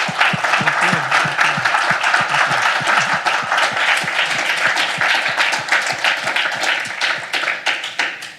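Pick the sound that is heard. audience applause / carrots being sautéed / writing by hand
audience applause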